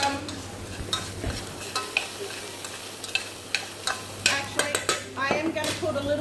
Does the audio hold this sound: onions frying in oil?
yes